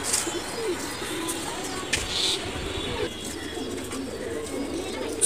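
Pigeons coo repeatedly in low, rolling calls over a steady background murmur, with a few faint chirps and knocks.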